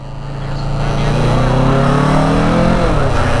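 A 2020 Kawasaki Ninja 650 motorcycle engine drones loud and close while riding along Telegraph, its pitch climbing smoothly with a brief shift near the end.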